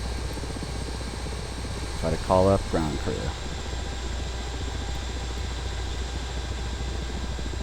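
Aircraft engines in a flight simulator video game give a steady, continuous mechanical drone throughout, with a short burst of speech over it partway through.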